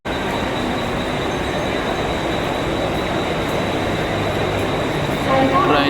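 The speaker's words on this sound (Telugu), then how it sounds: "ట్రైన్ అయితే వచ్చింది." A train pulls into a suburban station platform in Navi Mumbai, its steady loud rumble and rolling wheels filling the scene, with a wheel squeal and brake hiss rising near the end as it slows.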